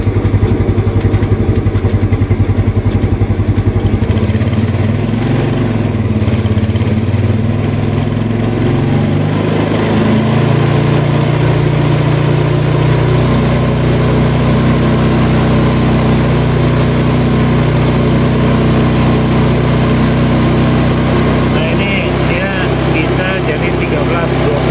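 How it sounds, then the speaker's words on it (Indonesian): A motorcycle engine held at a steady, loud drone during an engine test, continuous and close throughout, with a voice speaking over it. "tadi pada saat digas itu mentoknya di 13 saja ya."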